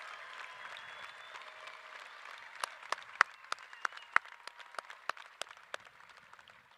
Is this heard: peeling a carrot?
no